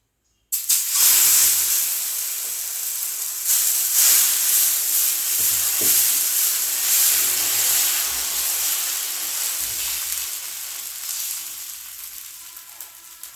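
Green gram (moong dal) dosa batter hits an oiled tawa and sizzles loudly at close range, a steady bright hiss that starts abruptly and then fades slowly.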